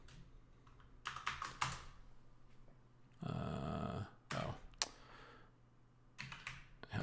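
Typing on a computer keyboard during coding work, several quick bursts of close clicking keys separated by pauses, with a steady low hum underneath and a brief louder noise midway.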